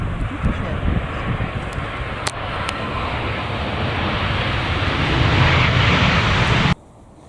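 An Airbus airliner comes in to land in a gusty crosswind at Manchester, its broad engine roar and wind rush building steadily and loud for several seconds before cutting off abruptly, with people talking over it.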